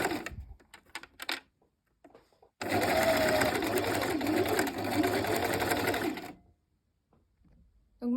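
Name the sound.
sewing machine stitching along piping seam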